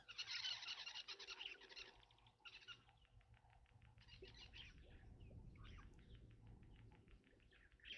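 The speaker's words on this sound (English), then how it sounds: "I do love the sound of the starlings and the weavers." Starlings and weavers chatter and call at a waterhole, bursts of bright chirps and twittering at a moderate distance, with lower rustling and a faint background hum in between, fairly quiet overall.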